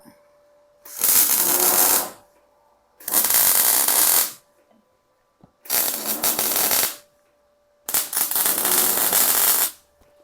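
Four loud, crackling bursts of MIG tack welding on steel pieces for a DIY hot tub mover, each lasting about one to one and a half seconds, separated by quiet gaps with a faint steady hum underneath.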